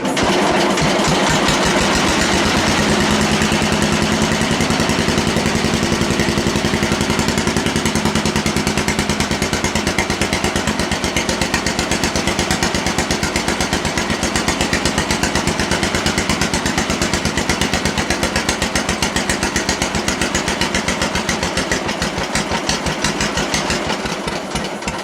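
A Sears 14 garden tractor engine with a welded stack exhaust and no muffler runs steadily, close and loud, a rough, rapid chugging throb that holds for the whole stretch without pause.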